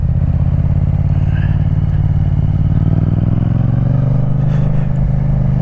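A Yamaha MT-07 motorcycle engine idles loud and close while warming up after sitting for nearly two weeks, a steady low throbbing rumble with a slight rise in pitch toward the end.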